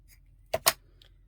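Scissors snip paper for a journal page: two quick, close cuts in fast succession, then a faint small click, in an otherwise quiet room.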